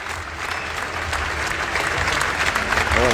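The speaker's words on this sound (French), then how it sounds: "On peut les applaudir." A crowd at the Ballon d'Or ceremony claps and cheers in a dense, steady wave that swells slightly over a few seconds.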